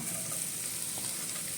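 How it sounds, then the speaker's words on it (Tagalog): Garlic sizzles steadily in hot oil in a pan, a dense continuous crackling hiss heard close up with no voices. "isusunod na natin ngayon itong bawang"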